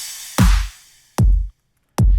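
Three deep, punchy riddim kick drum hits in half time, evenly and slowly spaced, each with a short boomy decay and silence in between.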